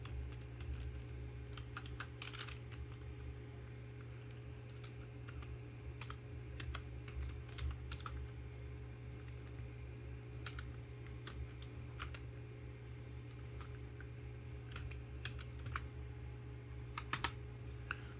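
Quiet keyboard typing while entering data into Tally ERP9 accounting software, scattered bursts of clicky keystrokes over a steady low hum, with pauses between short runs of keys.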